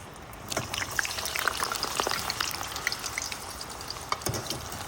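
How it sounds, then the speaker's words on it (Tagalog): Hot oil sizzles and crackles steadily, with scattered pops and spits as vegetables such as potatoes fry close by. "Kainit ng mantika guys at i-prito ang mga vegetables like"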